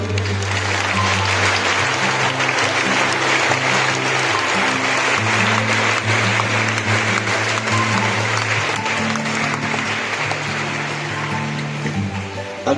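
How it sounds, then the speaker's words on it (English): Students clap for themselves at a school morning assembly, sustained dense applause from a large group that continues at an even level over a steady low musical drone. "A big clap for yourself."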